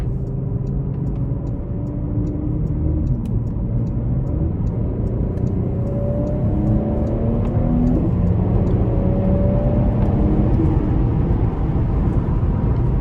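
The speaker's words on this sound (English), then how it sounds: "this Turbo V6 does a really good job at accelerating" A 2018 Porsche Panamera with a turbo V6 accelerates, its engine drone rising through the gears in a steady, loud in-cabin rumble with rising tones and no talk.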